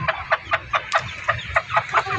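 Hens clucking while teaching their chicks to eat, a close run of about a dozen short, rhythmic clucks in quick succession, loud and clear with no talk.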